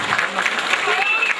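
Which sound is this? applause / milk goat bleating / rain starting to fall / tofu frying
applause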